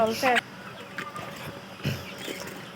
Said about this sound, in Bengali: প্রত্যেকটা মুরগি ছোটাছুটি করতেছে দেওয়া খাবারের জন্য